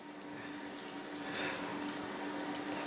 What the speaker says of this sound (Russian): Руки смачиваем водой, чтобы фарш